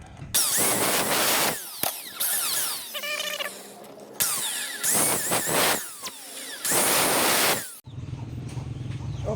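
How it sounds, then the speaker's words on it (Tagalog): Power drill boring holes into the wood of a display cabinet under repair, several loud whining bursts of drilling separated by short pauses, with ratcheting clicks in between. "so ayan yung ilalagay natin sa drill natin so yun yung gagamitin natin pang butas so ayan butasan na natin yung mga minarkahan natin"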